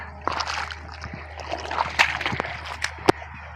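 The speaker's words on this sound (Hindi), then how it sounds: "ये देखें जी यहाँ तक नीचे पानी आ रहा है।" Rainwater flows and splashes through a village after heavy rain, a steady wash of running water with irregular sloshes and splatters close by.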